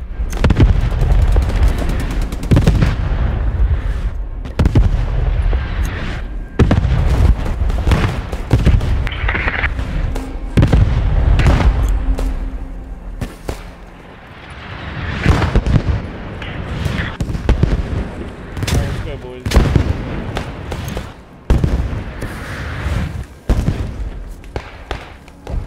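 Artillery barrage in a trench combat shooter game, a long stretch of repeated booming blasts and sharp reports, some near and loud, others distant, layered over continuous battlefield rumble.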